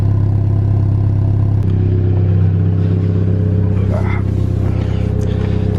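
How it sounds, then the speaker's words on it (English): Hot hatch car engine idling and revving, a steady loud low rumble with a brief blip, and someone talking over it. "it just sounds kind of like what it should sound like for a proper hot hatch"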